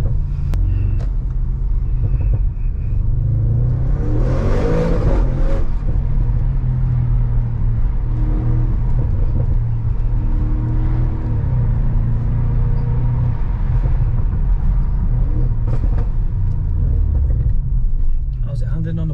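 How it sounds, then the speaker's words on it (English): A new high-performance car's exhaust rumbles loud and steady from inside the cabin while driving, with engine revs swelling and falling over a constant low drone; voices talk now and then over it. "This is an exhaust and it's gonna sound naughty."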